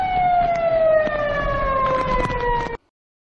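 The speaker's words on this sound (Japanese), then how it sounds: "サイレンが鳴り続いています" Emergency vehicle sirens wail steadily during a typhoon, with street trees and fallen signs blocking roads; a loud, continuous siren tone slowly falls in pitch over a rumbling street background, then cuts off abruptly.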